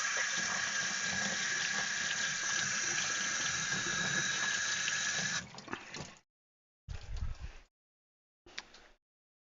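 Water runs steadily during a tank flush for several seconds, a continuous hiss and rush that cuts off, followed by two short bursts of flow.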